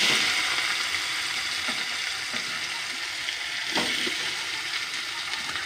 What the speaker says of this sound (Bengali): শুকনো লঙ্কা, তেজপাতা আর একটু জিরে দিয়ে এবার পেঁয়াজগুলো দিয়ে দেবো।